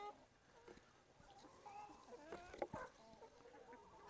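Homestead chickens cluck softly and intermittently at a distance, with faint rustling and background farmyard noise throughout.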